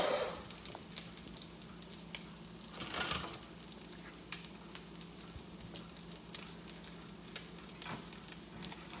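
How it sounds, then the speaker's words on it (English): Steady sizzling of salmon croquettes frying in hot oil, a soft continuous crackle with occasional pops and a brief stir, no talking. "So you want the oil hot enough to sizzle,"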